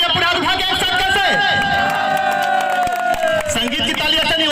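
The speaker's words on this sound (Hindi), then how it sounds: "तो सबसे पहले आपकी तालियां पूरा हाथ उठा के एक साथ कैसे?" Crowd at a live music star night show in Bhurka, Mahasamund, clapping and cheering loudly and continuously, with music tones and voices mixed into a dense, steady roar of applause.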